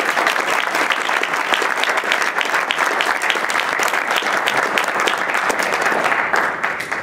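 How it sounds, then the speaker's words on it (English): A room full of people applauds panelists at a reconciliation event in Virginia, the clapping loud, dense and continuous, tapering only slightly near the end. "Let's give our panelists again a round of applause."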